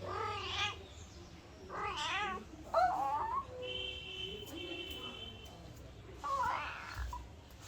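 A pet cat being handled by children at home gives a few meows, moderately close, with kids talking and chattering over and between the calls.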